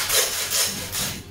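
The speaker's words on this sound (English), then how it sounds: "when you're sawing through bone, stop when you get to the meat" A hand saw cuts through lamb bone near the pelvis in three steady back-and-forth strokes, a close, rasping scrape.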